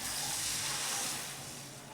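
Water poured from close by into a pan of sprouted horse gram that has been sautéed in a little oil, giving a steady broad splashing hiss that eases slightly toward the end, with no talking.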